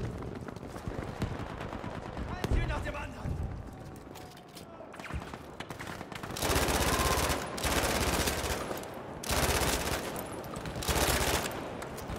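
A fully upgraded Vickers machine gun in the video game Battlefield 5 fires in several sustained loud bursts in the second half, preceded by quieter footsteps and movement.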